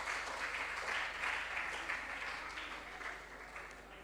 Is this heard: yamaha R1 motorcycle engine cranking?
no